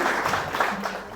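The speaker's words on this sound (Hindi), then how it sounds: "अद्वितीय के लिए चलो एक ताली बजा दो" Audience clapping at a talk in a hall, a brief burst of applause from a small crowd, fairly close and even in level.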